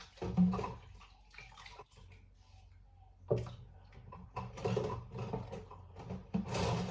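A dirty plate being scrubbed and washed in water makes close, irregular splashing and sloshing with occasional clinks and knocks, pausing briefly before the scrubbing resumes.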